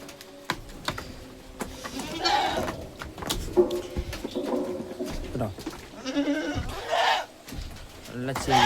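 Crossbreed goats bleating on a farm, several short calls heard over a busy background with bird cooing, mixed in and under someone speaking.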